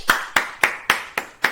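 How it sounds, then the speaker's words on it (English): One person, Jennifer, claps six times in a steady, slightly uneven rhythm, each sharp clap close and distinct with brief quiet gaps between, no talking over it. "That's Jennifer clapping"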